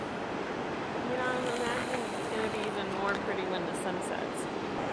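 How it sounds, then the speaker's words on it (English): Ocean waves breaking on the coast along Highway 1, a steady broadband wash of surf mixed with wind noise on the microphone, continuous and fairly loud, with people talking over it. "It's gonna be nice going to sleep to the sound of waves."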